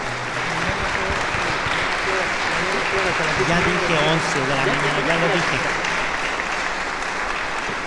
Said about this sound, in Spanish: Nos despedimos con un fuerte aplauso para el Padre Francisco